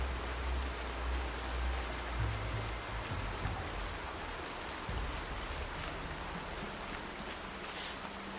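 Steady rain falls in Horizon Zero Dawn, an even, dense hiss of drops on surfaces that runs unbroken throughout, with a faint low rumble underneath.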